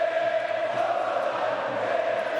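Basketball arena crowd at a Virtus versus Partizan Top 16 game cheering and chanting during a timeout, a loud, sustained roar of many voices with a steady tonal chant running through it.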